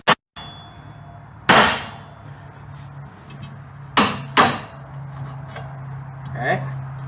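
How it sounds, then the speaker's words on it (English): A hammer strikes the steering knuckle of a 2001 Dodge Dakota to free the tie rod, with three or four sharp metallic clangs spaced over several seconds and quiet talk between them. "you just want to strike the knuckle right here with a hammer"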